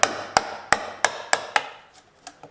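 A wood-carving tool from a carving set hacks into wood in a steady series of six sharp, close knocks, then a few fainter, looser taps as the rhythm trails off.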